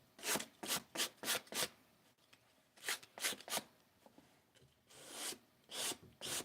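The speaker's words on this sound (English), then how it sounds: "Got my little sandpaper." Sandpaper rubs a hat in a studio in quick, close rasping strokes, grouped in short bursts of four or five with brief pauses between, and ends in longer, broader scrubbing passes.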